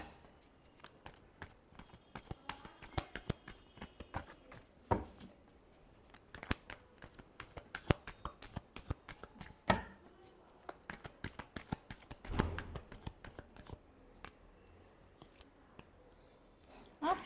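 Tarot cards being shuffled, a soft, close, irregular run of riffling and slapping card sounds with short pauses, faint and alone.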